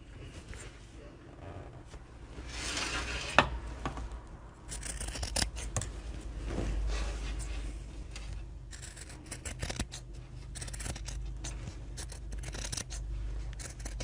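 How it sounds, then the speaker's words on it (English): Scissors trim back excess fabric on a sewn bag, giving repeated soft close snips and scratchy cuts under faint background noise. "just flip it over and just trim back your excess."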